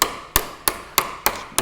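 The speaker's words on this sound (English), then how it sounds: "Can I hit this with a hammer?" Six sharp metallic hammer blows on car body sheet metal, evenly spaced at a steady rhythm, close and loud, with short ringing decays.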